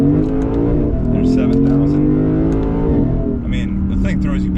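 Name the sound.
Lexus IS500 V8 engine revving on kick-down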